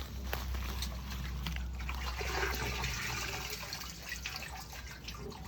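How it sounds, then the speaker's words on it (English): A pond filter being washed in a bucket of water, soft sloshing and trickling water with gentle splashes, close and continuous. "Now I'm just gonna give it a gentle wash in our bucket."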